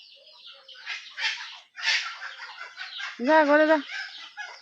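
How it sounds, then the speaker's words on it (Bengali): Chickens fighting on a village rooftop, with one loud, sharp hen squawk near the end, heard under a person repeatedly calling out to shoo them. "উপরে ছাদে আবার মুরগি মারামারি করে"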